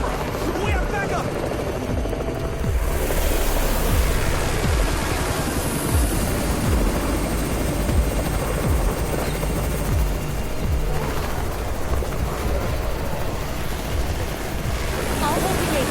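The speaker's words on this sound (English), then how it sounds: "It's the Raven's chopper! We have backup!" Helicopter rotor drone of the Raven's chopper arriving in the zombie survival game Undawn, a steady loud whir layered with wind and surf-like noise throughout, voices talking over it.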